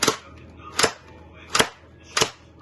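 Four sharp shots from an M249-style gel blaster toy gun fired one at a time, evenly spaced about a second apart, each a crisp snap with quiet pauses between.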